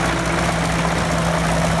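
An International crawler tractor idles, its engine giving a steady low, continuous rumble with a droning hum, loud and unbroken, with no voices over it.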